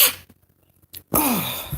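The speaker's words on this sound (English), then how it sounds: "Sneezing now." A woman sneezes after peppering meat: one sharp burst of breath followed by a brief pause, then a drawn-out, falling vocal exhale, close and fairly loud.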